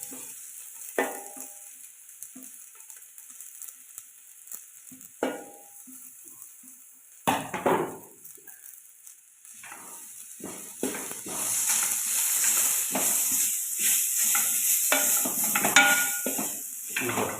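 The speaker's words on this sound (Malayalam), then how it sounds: "ഒതുക്കി വെച്ച തേങ്ങയും ചെറിയ ഉള്ളി പേരും ജീരവും ഇട്ടു കൊടുക്കാം" Grated coconut, shallots and cumin go into a hot pan for coconut rice, starting with sparse clinks and stirring scrapes, then building into a steady close sizzle of frying with utensil knocks.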